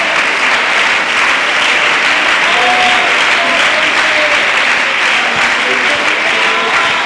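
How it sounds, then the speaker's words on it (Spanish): A Sunday morning Pentecost service congregation applauds loudly and steadily, a thick wash of clapping that fills the room without a break, with a faint voice and some tones beneath it. "aplauda su presencia esta mañana"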